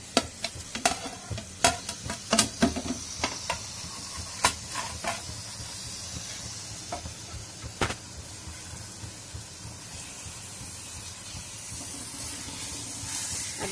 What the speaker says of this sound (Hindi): ये देखिए मैं इसमें सारा प्याज डाल दूंगी।